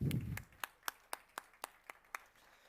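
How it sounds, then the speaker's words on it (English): A few hands clap for Dr. Erik Schweikert at the News9 Global Summit 2025 Germany Edition, opening with a brief burst and then thinning to about eight single, evenly spaced claps that fade out. "huge round of applause for Dr. Erik Schweikert"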